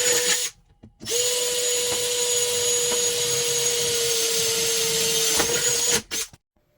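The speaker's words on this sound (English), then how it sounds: "I just got to drill out the holes for that to mount it" A power drill whines steadily as it bores mounting holes for a Honda snorkel, running in two bursts with a short stop between them before winding down, loud and close with no talking.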